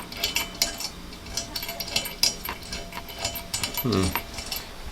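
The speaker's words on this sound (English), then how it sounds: "you got to make sure you take off these button head screws along with the washer and lock washer" A ratchet clicks in quick bursts while removing button head screws from a Jeep XJ ladder bracket, with metallic clatter and a brief low knock near the end.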